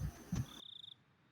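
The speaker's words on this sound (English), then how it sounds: "I thought crickets sounded like that." Crickets in the video game Higurashi give a short burst of quick, rhythmic chirps, brief pulses repeating rapidly before trailing off into quiet.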